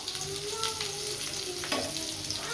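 Dry fish with curry leaves sizzling steadily in hot oil, a dense continuous crackle and hiss close by, with no one speaking.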